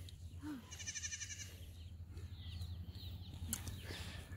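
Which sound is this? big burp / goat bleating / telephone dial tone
goat bleating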